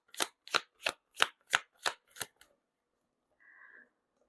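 Tarot cards are shuffled close by in eight quick, evenly spaced crisp bursts, followed by near silence and a faint brief tone.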